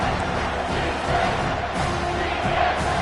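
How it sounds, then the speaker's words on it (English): A stadium crowd at a Miami vs Oklahoma football game roars on third down, a steady dense wall of cheering and shouting that holds loud for the whole stretch. "Decibels rising as the crowd gets behind this defense on 3rd down."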